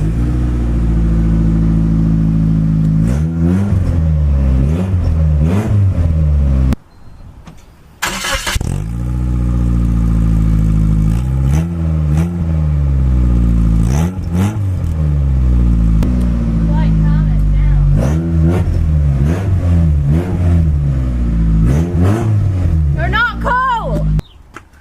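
A car with a cracked exhaust weld is revved hard and repeatedly. The loud, close engine note climbs and falls in several surges, with a short pause partway through.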